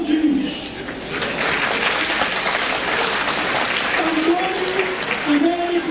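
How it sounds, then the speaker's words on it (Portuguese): A congregation applauds graduates of a ministerial orientation course as names are read at a church graduation, with steady clapping and a voice speaking over it near the start and again toward the end. "os irmãos podem aplaudir-nos"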